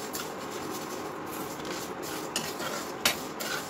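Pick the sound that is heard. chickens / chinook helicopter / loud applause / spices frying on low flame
spices frying on low flame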